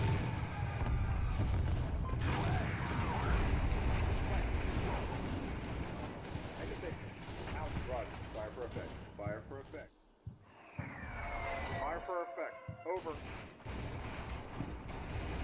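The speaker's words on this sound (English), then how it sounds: "Mason's guns begin to impact around the Fox who keep sending mortars towards the Marines" Distant gunfire and artillery impacts rumble through a Combat Mission Shock Force 2 battle in Syria, where Marines face mortar fire. The bursts sound dense and steady, then thin out, with a voice narrating over them.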